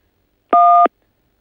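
A single automated telephone keypad tone after pressing key 1 on a France Télécom voicemail menu: one steady two-pitch beep of about a third of a second, clear and alone against silence.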